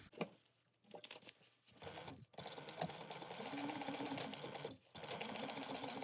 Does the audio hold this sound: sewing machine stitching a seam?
yes